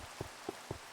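Rain falls in the Minecraft Monifactory modpack as a faint, steady hiss, with three soft, evenly spaced patters of drops standing out quietly.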